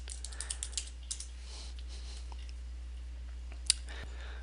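A computer keyboard is typed on in a quick run of crisp clicks, then a pause and a single louder keystroke, close and quiet against a steady low hum, with no one speaking.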